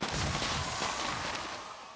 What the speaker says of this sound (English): a confetti cannon car horn,